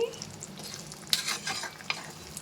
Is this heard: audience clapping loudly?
no